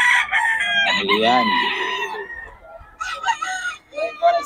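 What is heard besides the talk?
rooster crowing, Boston Gilmore gamefowl at a market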